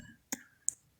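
Two crisp, close computer mouse clicks about a third of a second apart, sharp and isolated against near silence.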